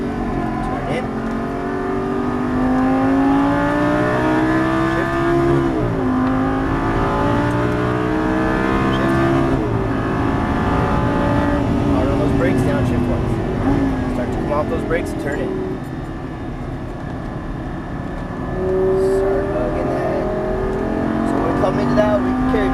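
A Lamborghini Gallardo LP550-2 on the Exotics Racing track in Las Vegas roars loudly and steadily, its engine pitch climbing and dropping through revs, braking and downshifts, while an instructor talks almost continuously over it.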